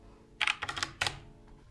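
A few quick bursts of keystrokes on a computer keyboard, close and fairly quiet, with a short pause between clusters of taps and no voice.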